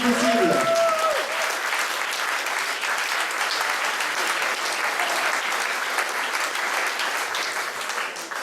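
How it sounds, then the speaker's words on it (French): An audience at an improv cabaret show applauds in a dense, sustained wave of clapping that fills the room, with brief voices and whistles near the start before the applause carries on alone. "sous l'applaudissement d'un public de folie à l'espace du possible"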